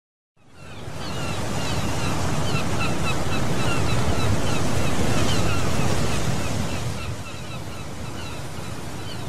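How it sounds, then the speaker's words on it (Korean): Ocean surf at an east coast beach rolls in as a loud, continuous roar mixed with buffeting wind, easing slightly near the end. "두 노인이 통해안의 바닷가에서 바다를 즐기고 있네."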